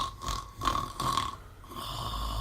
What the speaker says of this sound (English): No, don't snore on me.